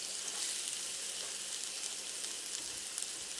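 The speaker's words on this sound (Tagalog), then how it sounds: "Yung half ng yung last portion ng ating garlic, gigisa na natin. At yung ating sibuyas." Garlic and onion sauté in preheated hot oil in a pan, giving off a steady, close crackling sizzle with fine popping spatters throughout and no voices.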